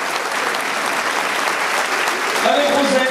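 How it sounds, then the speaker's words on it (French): A school audience applauds loudly and steadily, a dense wash of clapping hands that runs the full length, with a faint whistle-like tone rising near the end. "Vous pouvez les applaudir très très fort."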